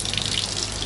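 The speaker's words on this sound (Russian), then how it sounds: "Мы будем смывать шампунь." Water at 39 degrees runs steadily from a tap, rinsing shampoo off a dog after a walk, a continuous close splashing gush with no talking.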